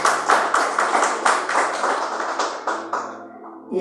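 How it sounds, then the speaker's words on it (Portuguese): Congregation clapping for Jesus during a church service, a loud rhythmic run of about a dozen sharp claps that slows and thins out toward the end. "Palmas para Jesus."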